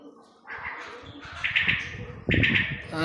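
Quail calls ring out in short bursts at an outdoor landscaped spot, with brief vocal phrases rising over background bird sounds and some low rustling.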